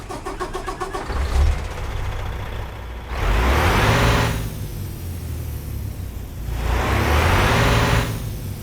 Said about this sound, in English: let's get this Kenworth T700 started up and get on the road